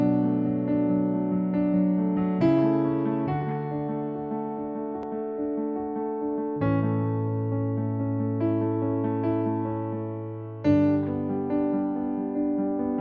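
Sustained piano chords repeat in a steady 3-1-2-1 pattern of four, each chord ringing into the next, played clearly and alone, as an intro to a song.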